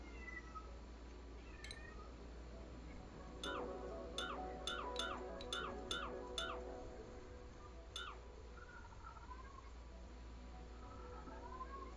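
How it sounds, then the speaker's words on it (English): An upset cat gives a quick series of short, faint meows, about eight in a row, indoors against a steady low hum. "My cat is apparently upset with me."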